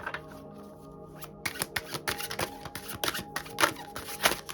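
Tarot cards shuffle close up in a quick run of papery riffles and slaps, steady and fairly loud after a short quiet start, with no voice over them.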